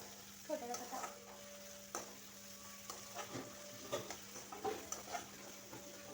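Two medium onions, finely chopped, sautéing in three spoons of oil for a Kolhapuri dry mutton dish, a soft steady sizzle broken by repeated scrapes and clinks of a stirring spoon against the pan.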